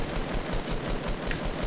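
Gunshots in the video game Fortnite, a rapid string of roughly a dozen evenly spaced shots, like automatic fire, moderately loud with no talk during the burst.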